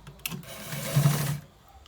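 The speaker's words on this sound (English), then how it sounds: "So this is how we stitch it." Sewing machine running a short burst of stitching on a white trouser, a steady mechanical whir rising and then stopping after about a second, close and fairly loud.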